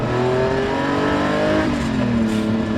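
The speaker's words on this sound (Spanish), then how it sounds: "Su sonido es una absoluta delicia y cómo se estira este motor." Lamborghini V12 engine revving, a sustained rich harmonic howl that climbs and stretches in pitch through the rev range, loud and close, with no voices.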